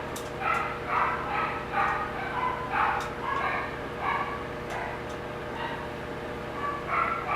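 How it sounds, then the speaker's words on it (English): Several pet dogs yip and bark in short repeated bursts throughout, fairly close, a steady indoor hum beneath them. "I'm sure you can hear my freaking dogs"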